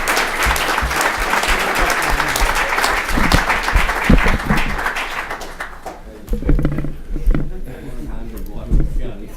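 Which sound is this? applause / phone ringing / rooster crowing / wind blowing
applause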